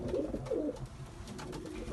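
Vienna white side pigeons in a new coop coo softly in low throaty bursts, two close together at the start, then fainter murmuring.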